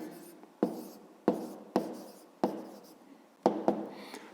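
A pen writes out a math answer by hand on paper, a series of close, crisp strokes and taps in short, uneven bursts, about six distinct marks, with no talk.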